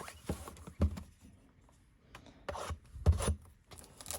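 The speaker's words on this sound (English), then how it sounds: "I got my trusty tomahawk to open up the packs." Trading card packs of Topps 2020 Series 1 are sliced open with a small tomahawk, heard as a few close, scraping and rustling strokes against foil wrappers with quiet handling between them.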